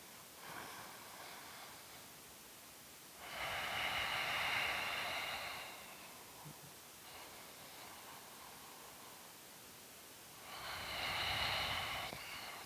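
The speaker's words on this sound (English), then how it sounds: "Bridge pose. Breathe deeply." Slow, deep breaths during a beginner yoga bridge pose, two long rushing inhale-exhale swells with quieter airy stretches between, close and unaccompanied by talk.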